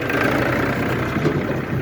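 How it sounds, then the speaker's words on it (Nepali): A tractor engine on a village road project site runs with a steady, loud, rumbling drone, close by and unbroken, with no talk over it. "यो ट्र्याक्टरको आवाज पनि अलिक आउने।"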